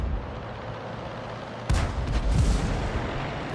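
Artillery shell from a tank battle game landing with a sudden loud boom partway through, followed by rumbling, crackling debris and echoing shots over a constant engine drone.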